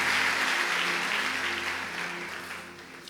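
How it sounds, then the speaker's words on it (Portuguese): Church congregation applauding during a service, a broad wash of clapping over a low sustained instrumental hum, loud at first and gradually fading. "Alguém aplaude o Senhor Jesus"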